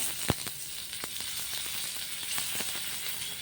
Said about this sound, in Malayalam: 1/2 ടീസ്പൂൺ കടുകിട്ട് കൊടുക്കാം. കുറച്ച് കറിവേപ്പില ഇടാം.